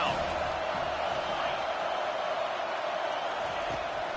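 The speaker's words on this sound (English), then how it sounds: "Decibels rising as the crowd gets behind this defense on 3rd down" Stadium crowd in the College Football 25 video game, a steady dense roar of cheering and rising noise that holds loud and unbroken the whole time, with no clear single voice on top.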